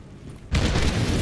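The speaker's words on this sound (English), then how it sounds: "I forget the explosions are a little overdone there." A sudden booming in-game explosion in Black Ops III Zombies after a quiet moment, followed by a sustained roaring, crackling wash of debris and rumble.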